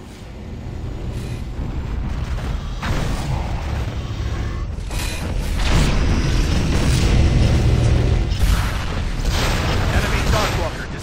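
Explosion of an enemy Darkwalker walker vehicle in the video game Unreal Tournament 3, heard as deep rolling booms and blasts amid loud continuous battle noise, with announcer speech mixed in.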